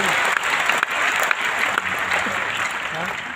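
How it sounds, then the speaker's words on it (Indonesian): A church congregation at a Pentecost service bursts into applause, a loud steady wash of clapping with some voices mixed in beneath it. "Kita berikan tepuk tangan."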